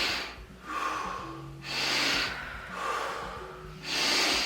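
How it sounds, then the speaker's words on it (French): Strong, rapid breaths in and out as in a Wim Hof breathing exercise: loud, close inhale-exhale cycles in a steady rhythm, each breath a rushing whoosh, with no talk. "On inspire vraiment fort, puis on relâche."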